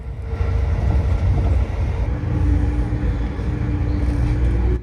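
The Amtrak Pennsylvanian, running on diesel power under electric catenary across eastern Pennsylvania, gives a steady, loud rumbling roar from inside a coach, with continuous rail and engine noise and no pauses.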